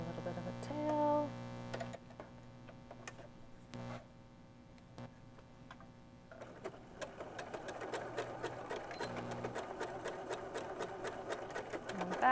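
Sewing machine running in bursts as it stitches an armhole seam in sweater knit fabric for a cocoon cardigan, with a steady mechanical whir, brief pauses and a faint underlying hum.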